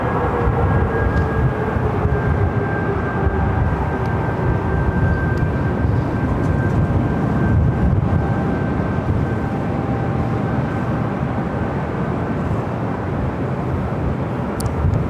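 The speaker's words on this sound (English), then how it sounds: "a Dreamliner with Aeromexico heading back to Mexico City, a 787-9 Dreamliner, looking like it's heading here to the north side" An Aeromexico Boeing 787-9 Dreamliner at LAX gives off a steady broadband engine roar with a faint whining tone, sustained and fairly close throughout.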